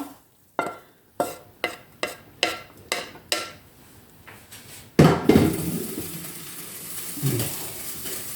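A utensil clanks rhythmically against a pan about eight times, then dried fish maw hits the hot pan and a loud, sustained sizzle bursts out, with stir-frying scrapes underneath.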